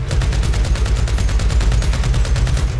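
Rapid automatic gunfire in the video game GTA V, a loud, continuous stream of evenly spaced shots with no pauses.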